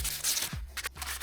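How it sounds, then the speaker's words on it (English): Close, continuous hand sanding over original welds on a Porsche 996 GT3 RS conversion body, a steady raspy scratching broken by brief strokes and pauses. "just sanding down the original welds just to make them nice and flat"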